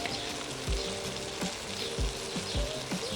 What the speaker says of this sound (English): We are just looking for softening them up with the butter, not browning.